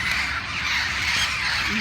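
Flock of Mexican red-headed Amazon parrots calling loudly at night about half a mile off, a dense, continuous wash of raucous squawks and screeches filling the whole stretch without pause.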